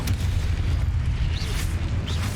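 A Confringo blasting spell explodes in the game Hogwarts Legacy, a loud, continuous low rumbling boom that fills the whole moment, with faint whooshing spell effects above it.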